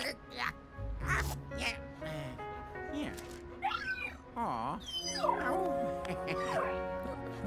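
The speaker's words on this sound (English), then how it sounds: "I think he found that dog in one of the other games." A cartoonish dog barks, yips and whimpers in Luigi's Mansion 3, a run of short sharp barks and whines mixed with game music and effects, with a voice talking over parts of it.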